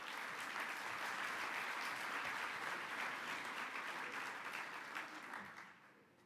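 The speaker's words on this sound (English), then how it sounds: "Let's give them another round of applause." A luncheon audience at an annual meeting gives a round of applause, sustained, fairly distant clapping from many hands that fades out over the last second.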